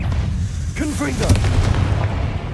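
A Confringo spell blast in Hogwarts Legacy fires with a burst and crackling impact inside a mine, while a voice speaks briefly over the noise.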